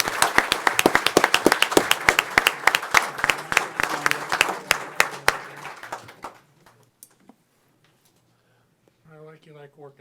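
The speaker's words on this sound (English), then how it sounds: "One more round of applause." Audience applause for a police force at a ceremony, a dense burst of clapping for about six seconds that thins out and stops, followed by brief talk near the end.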